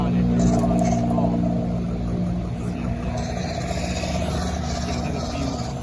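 Gasoline engine effect from a sound card in a 1/10-scale M151A1 RC jeep fitted with a WPL two-speed gearbox: a steady, low, humming engine drone at moderate level, with a voice talking over it.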